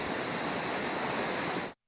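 Floodwater rushes through a normally dry creek swollen by days of heavy rain, a dense continuous roar of churning water, loud and steady until it cuts off abruptly.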